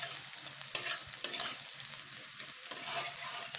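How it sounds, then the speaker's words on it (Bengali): Ginger, garlic and chopped green chilli sizzle in hot oil in a pan, stirred with a few scraping strokes of a spoon over a steady, close frying hiss, alone with no talk. "একটু নেড়ে নিচ্ছি।"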